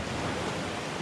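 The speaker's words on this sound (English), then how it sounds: "See the water rushing in there?" Sea water rushes into a cave near Secret Beach in Trinidad, a steady, fairly faint broadband wash of surf, with no voices.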